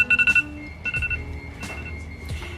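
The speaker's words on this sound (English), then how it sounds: "What's my phone going off for?" A mobile phone going off during car wiring work on a Nissan R33, a clear electronic ringtone of short repeated tones and chirps, moderately loud, with some faint clunks in the background.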